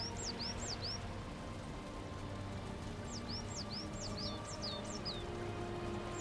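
Two runs of quick, bright bird chirps ring over a steady low background hum. Each run repeats a rising-falling note several times and sounds fairly faint, as if from a short distance, with no talking.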